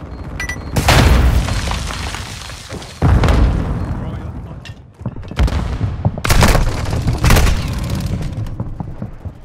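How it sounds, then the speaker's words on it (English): Flash grenades and other blasts boom in Modern Warfare 2, arriving as several loud, heavy bursts spaced a few seconds apart, each trailing off into rumble, with in-game voice callouts between them. "Throwing flash grenade!"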